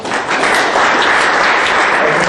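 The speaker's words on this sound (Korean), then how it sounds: "진심으로 뜨거운 박수 한번" An audience at a Seongnam city labour union representatives' council debate forum gives a six-member panel sustained, dense applause from start to finish. The clapping fills the room evenly and stays loud throughout.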